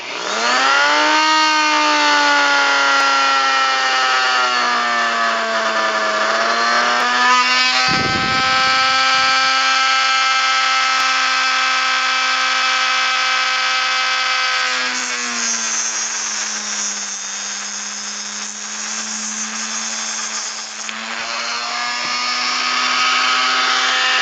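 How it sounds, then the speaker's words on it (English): A Dremel rotary tool whines at a high steady pitch, close and loud, as it cuts the primer air tube off a Briggs & Stratton mower engine, the tone dipping slightly under load partway through. "we're going to go ahead and take our Dremel, and I'm going to start it, and then we're going to cut that air tube off"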